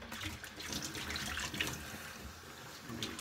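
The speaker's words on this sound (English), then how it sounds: "Quick rinse." Water tap running steadily into a sink for a quick rinse during a shave, a continuous close splashing stream with no talk.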